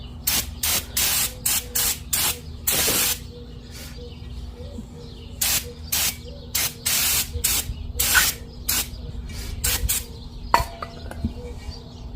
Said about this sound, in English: we're going to throw some brake cleaner on the rotors